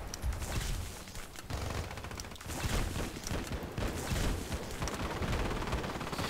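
M249 SAW light machine gun fired in a video game, sustained rapid automatic bursts, loud and dense, with a brief pause between strings of fire and no talking.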